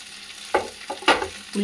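Mint leaves and chutney ingredients such as green chillies, ginger and tamarind being sautéed in a pan, with a steady low sizzle broken by several loud scraping stirs of a spatula, close up and with no voices.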